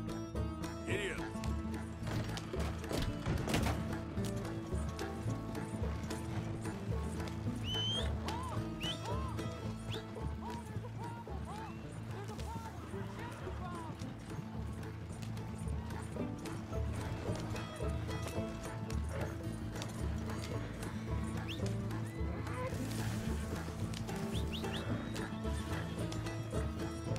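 Horses pull a stagecoach in the Red Dead Redemption 2 video game, with steady clip-clopping hooves, occasional neighs and rattling wooden crashes over a continuous rolling rumble.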